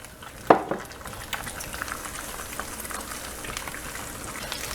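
Eggs fry in a pan with a soft, steady sizzle that stays faint and continuous, opened by one sharp clink of utensil against the pan near the start.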